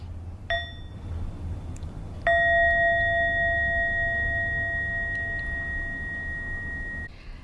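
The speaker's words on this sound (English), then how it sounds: "let's begin by listening to one sound of the bell" A bell gives a short ding, then one clear ring that hums and sustains for several seconds before cutting off.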